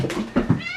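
A cat meows in a short, close, fairly loud burst of two or three quick cries lasting under a second, with no talk over it.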